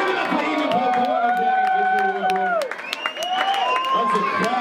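A festival crowd at a wings and beer event applauds and cheers an award winner, dense clapping and whoops rising together while an announcer speaks over them, then a brief dip before cheering picks back up.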